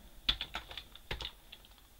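Keys clack on a computer keyboard while a command is entered in a Linux virtual machine, a quick uneven run of close, fairly soft taps with short pauses and no voice.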